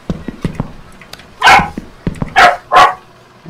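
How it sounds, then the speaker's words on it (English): A dog barks in a horror video game, several sharp loud barks in quick bursts with short gaps, preceded by softer yips and thumps, close and prominent. "Okay, dog is scary."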